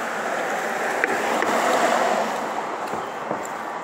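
The Fox River in Appleton, Wisconsin rushes steadily past historic mill buildings, a continuous loud wash of flowing water with some wind buffeting, heard alone without talk.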